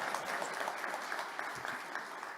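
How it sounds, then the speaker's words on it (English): A round of applause from the audience at a gaming resort grand opening ceremony, continuous dense clapping at a fairly soft, even level, with no talking. "we need to give this lady a round of applause"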